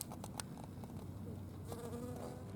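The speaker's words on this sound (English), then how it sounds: "There's a bee right there." A bee buzzes among poppies at a mission garden in Solvang, a steady close insect drone with a few faint ticks and an outdoor background behind it.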